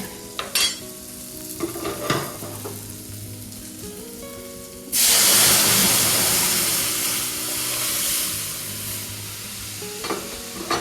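Boiled masoor dal is poured into fried bitter gourd in a hot pan, setting off a sudden loud hiss and sizzle that settles into steady bubbling, with stirring clinks before and after and no talk.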